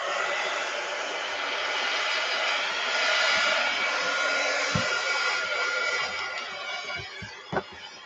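A handheld hair dryer blows steadily at close range to dry a freshly inked stamp, a continuous loud whir that swells slightly midway before a few soft knocks and clicks as it winds down near the end.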